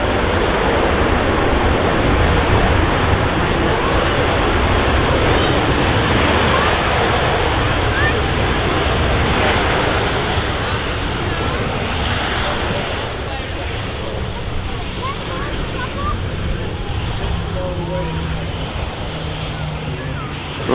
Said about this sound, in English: Ryanair 737 just arriving here.